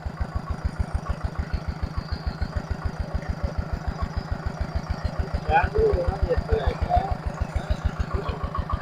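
Two-wheel walking tractor idling and chugging at a steady, rapid rhythm while cutting furrows in a wet rice paddy, loud and close, with a brief rougher surge partway through.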